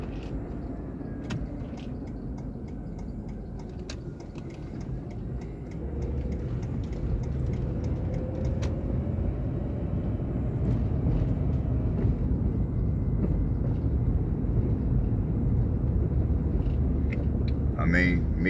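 A car driving through Fairmont, Indiana, a steady low engine and road rumble from inside the cabin that swells slightly partway through, with someone talking over it throughout.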